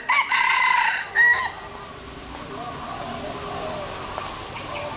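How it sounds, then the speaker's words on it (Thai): A red junglefowl at Khao Kheow Open Zoo gives a loud, close crow in two bursts at the start, followed by quieter background clucking and faint ambient sounds. "ไก่ป่าไก่ป่า แหมขันโชว์เลยนะ"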